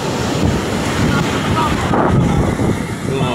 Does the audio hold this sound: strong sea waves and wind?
yes